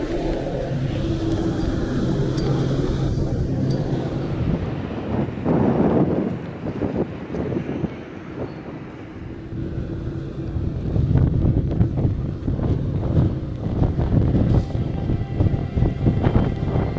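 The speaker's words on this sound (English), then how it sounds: "After security, it was straight back into the wind." Strong wind outdoors at Dundee airport buffets the microphone in a continuous loud roar that dips briefly midway and then surges again, with no speech.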